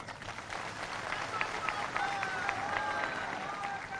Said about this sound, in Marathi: त्या गाडगिरी साहेबांसाठी टाळ्या वाजवा